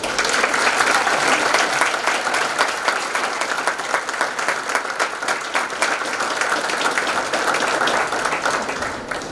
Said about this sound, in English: Let us all applaud.